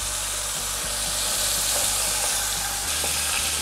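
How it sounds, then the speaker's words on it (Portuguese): Beef, an eye of round, searing in very hot oil gives off a loud, continuous hissing sizzle that fills the whole brief stretch, with a low steady hum beneath and no voices. "Com o óleo bem quente, eu vou colocar a carne."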